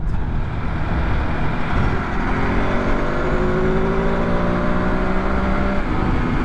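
A Ducati Multistrada V2 motorcycle is ridden on the road, its engine droning loud and steady with a rising pitch as it accelerates, wind noise underneath.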